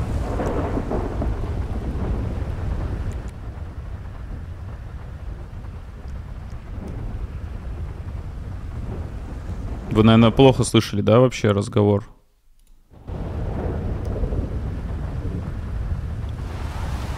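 Stormy weather in the video game GTA 5, steady rain and rumbling thunder filling the whole stretch with a constant broadband wash, while someone talks over it and music briefly cuts in before a short dip.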